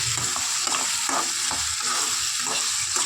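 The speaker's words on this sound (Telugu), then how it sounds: "ఇప్పుడు రొయ్యలు దీంట్లో వేసుకోవాలి. మళ్ళీ ఒకసారి మొత్తం కలుపుకోవాలండి." Dried prawns are stirred into a Guntur-style tomato curry frying in a pan, a close, steady sizzle with repeated scraping strokes of the spoon.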